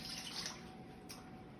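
Lukewarm water, about 300 milliliters, is poured into a mixing bowl for a yeast dough, making a faint, steady, hissing trickle that runs unbroken with no voices.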